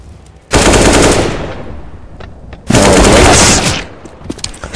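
Sustained automatic AK rifle fire in Counter-Strike: Global Offensive during a Na'Vi vs FlipSid3 match at the PGL Krakow Major 2017, two long loud bursts of rapid shots separated by a short pause, with a few scattered shots at the end.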